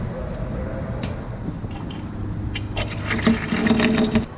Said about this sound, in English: we want to go ahead and turn our water pump on again.